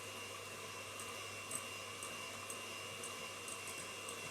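Eggs and sugar being beaten together for a one-egg chocolate cake, heard as a faint, steady, continuous motor whir with no break and no voices.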